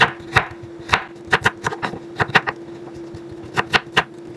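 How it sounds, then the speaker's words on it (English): A knife chops radishes into small pieces, with crisp, close knocks falling in quick irregular bursts of two to four strokes over a low steady hum. "I'm just going to chop these up really small."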